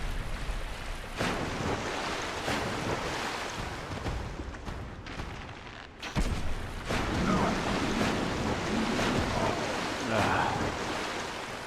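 Rushing water waves in the game Dark Souls II, a steady broadband wash with surging swells throughout, a brief dip midway, and someone talking over it.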